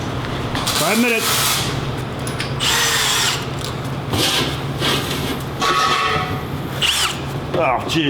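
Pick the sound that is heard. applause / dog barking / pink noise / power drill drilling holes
power drill drilling holes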